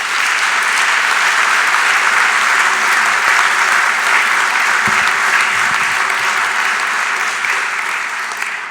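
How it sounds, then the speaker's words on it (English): Sustained applause from a large audience at a Patroonsfeest academic ceremony honoring four honorary doctors, dense and even clapping lasting throughout and easing slightly at the end. "a big round of applause for the 4 honorary doctors and for the nominators also"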